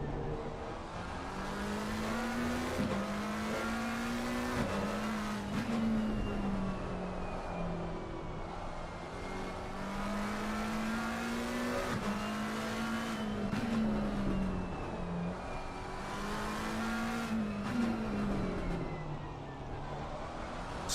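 Onboard a McLaren GT race car at Circuit de Barcelona-Catalunya during a GT Challenge race, with the engine droning loudly and continuously as its pitch rises and falls through gear changes and corners, and no talk.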